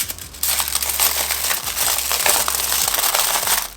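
Foil-and-paper wrapper of a milk chocolate bar torn and crinkled open, a close, bright rustle and crackle lasting a few seconds with brief crunchy bursts.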